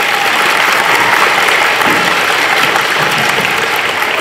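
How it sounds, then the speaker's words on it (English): Loud, dense audience applause fills a school Veterans Day performance at an elementary school, steady and sustained throughout with no voices over it. "I'd like to give a big round of applause to our music teacher"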